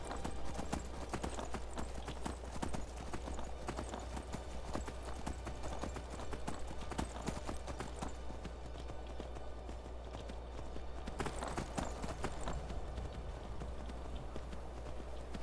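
Horse hooves clip-clop steadily in the video game Skyrim, a fast rhythmic run of hoofbeats over a low constant hum, with only brief faint gaps and no talk.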